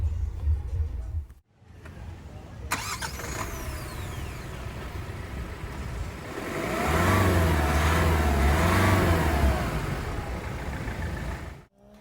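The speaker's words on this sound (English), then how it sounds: "So now let's start up the car and listen to how the car sounds." A 2020 Hyundai Creta starts with a click and catch, settles into a close, steady idle, then revs up in a rising and falling swell of engine noise before easing back toward idle.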